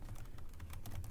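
Typing on a computer keyboard while entering a git configuration command, a short run of soft, close keystrokes heard alone at low level.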